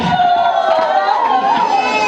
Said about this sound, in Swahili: Makofi na vigeregere.